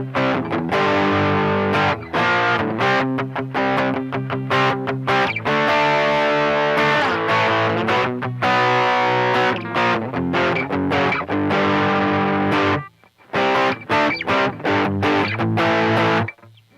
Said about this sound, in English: Let's get some distortion going.